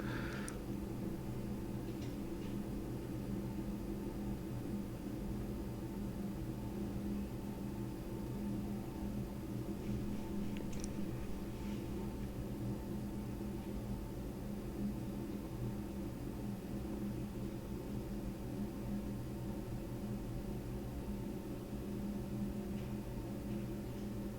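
Onion stir-frying on high heat in a wok for Canadian Chinese deluxe vegetables with chicken, a steady, even sizzle running unbroken throughout with no talk.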